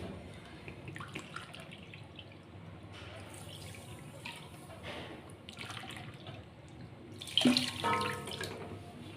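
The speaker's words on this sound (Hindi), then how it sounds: "अब हम पानी डालेंगे।" Water poured into a kadhai holding sugar for gulab jamun syrup, a faint running trickle and splash in a home kitchen, swelling into a louder pour near the end.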